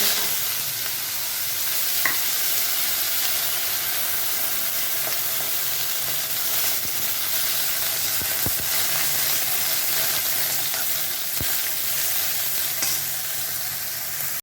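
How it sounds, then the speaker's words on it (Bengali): Black cumin seeds and green chili frying in hot oil, a steady close sizzle and hiss with occasional soft stirring clicks. "এখন এটাকে খুব সুন্দর করে ভাজা ভাজা করে নিচ্ছে"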